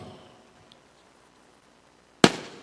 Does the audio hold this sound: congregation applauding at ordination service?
no